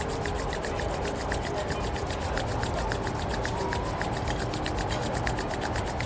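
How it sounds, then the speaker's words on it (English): Palms rubbing together in a steady, rapid back-and-forth rhythm during a sunset hatha yoga session on the 69th floor of SLS Dubai, with a continuous soft friction texture close to the listener, no talking. "Rub your hands."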